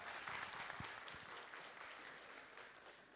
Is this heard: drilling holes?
no